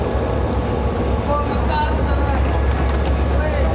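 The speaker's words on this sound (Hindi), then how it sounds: "कराकरम एक्सप्रेस पहुंच रही है इधर।" The Karakoram Express, a Karachi–Lahore train running via Faisalabad, arrives at a station platform with a steady, loud rumble and screech throughout, under crowd noise and nearby voices.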